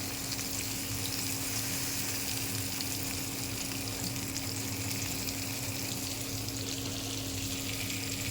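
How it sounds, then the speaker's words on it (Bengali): Coral fish pieces frying to a crisp in hot oil in a pan, a continuous even sizzle and bubbling hiss held at one level throughout, close by and with no talk. "একটু কড়া করে ভাজতে হবে, নাইলে স্বাদ ভালো লাগবে না।"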